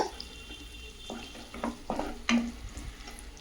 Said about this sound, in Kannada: ಈರುಳ್ಳಿ ಸ್ವಲ್ಪ ಗೋಲ್ಡನ್ ಕಲರ್ ಬರೋವರೆಗೂ ಬೇಯಿಸ್ಕೊಂಡ್ಬಿಡೋಣ